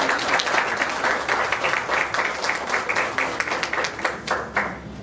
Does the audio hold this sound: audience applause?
yes